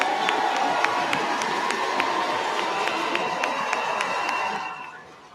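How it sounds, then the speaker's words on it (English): A large audience at a tournament ceremony applauds and cheers for the judges, dense continuous clapping with scattered whoops that fades out at the end. "please stand and let's congratulate them and give them a hand of applause"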